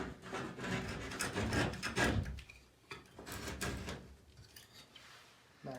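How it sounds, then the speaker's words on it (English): A tool scrapes and cuts old caulk from along a bathtub edge in close, rough rasping strokes, with bursts of scratching broken by brief pauses and a louder scrape near the end. "So obviously you just take this and start to scrape and cut the caulk away."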